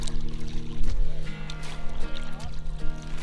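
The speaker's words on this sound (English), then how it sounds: "Alright, first paddle strokes of the year." Canoe paddle strokes dipping and pulling through lake water, a few soft splashes and gurgles close by, with a low steady hum beneath and faint voices at moments.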